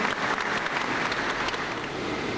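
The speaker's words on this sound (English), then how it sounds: "Please give him your round of applause." Sustained audience applause at a university event, a dense even patter of many hands clapping steadily throughout, fairly loud and close with no speech over it.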